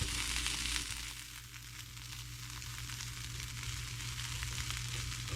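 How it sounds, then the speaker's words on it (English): Pork chops sautéing in a pan over low heat on a gas range, a steady broadband sizzle and crackle that carries evenly throughout, slightly louder at the start. "Just sauteed them a little bit. They're starting to brown."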